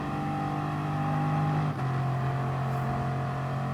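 Bugatti Veyron race cars in Gran Turismo Sport at Lago Maggiore, a loud steady engine drone held at constant pitch, with a brief dip and gear-like shift near the middle before the high tone settles again, no voices.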